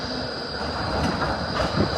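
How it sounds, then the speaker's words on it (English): Docklands Light Railway tram rolling past at close range, a steady rumbling rail roar with faint wheel squeal building slightly toward the end, no voices. "Trams park there and they come back."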